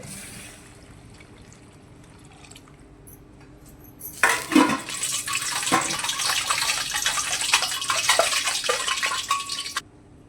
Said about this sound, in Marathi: एक तांबे पाणी टाकते